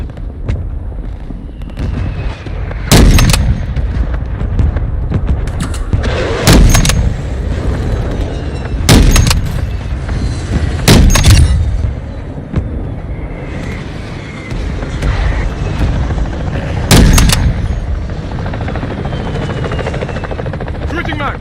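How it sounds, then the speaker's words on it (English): Friendly mortar strike in Call of Duty: about five heavy booming blasts land a few seconds apart over a steady loud roar of battlefield noise, with some game voice underneath. "Friendly mortar strike inbound."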